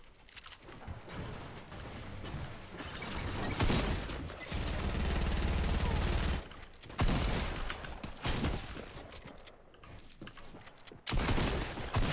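P90 gunfire in the video game Fortnite, dense rapid bursts of shots with mechanical clatter and a few booms, loud and continuous with brief gaps, no voices.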